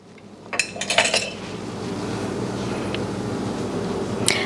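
A spoon stirring strawberry-lemonade concentrate in a pan, giving a few scraping clinks early on and then a quiet low simmer with one more faint clink near the end.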